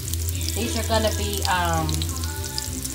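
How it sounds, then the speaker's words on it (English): Mushrooms frying with rosemary in a hot pan, left untouched to caramelize, give a steady close sizzle and crackle beneath a person talking. "I'm frying some mushrooms."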